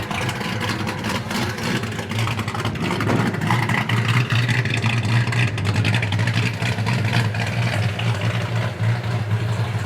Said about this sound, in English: That great sound and dual exhaust.